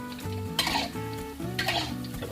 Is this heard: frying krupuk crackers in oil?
yes